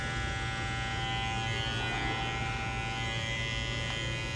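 An electric hair clipper buzzes steadily during a men's clipper haircut, a close, continuous motor whine with a constant tone and no speech.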